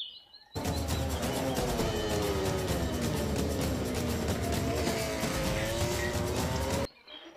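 A toy MotoGP racing motorbike gives a steady, high buzzing engine whine, fairly quiet and near. It starts abruptly, holds continuously for about six seconds and then cuts off.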